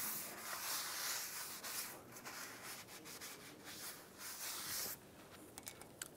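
A rag rubs briskly over a brake caliper bracket on a 2007-2013 Chevy Silverado 1500 after it is sprayed with brake parts cleaner, giving close, faint scrubbing strokes that end in a few short scuffs.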